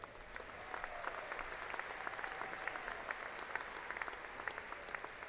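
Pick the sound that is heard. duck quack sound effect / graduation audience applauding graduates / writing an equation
graduation audience applauding graduates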